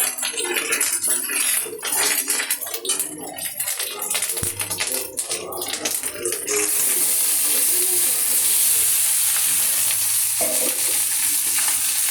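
Shukto vegetables sauté in a pan with panch phoron and ginger, giving a steady close sizzle with scraping stir strokes early on, then settling into a continuous hissing fry.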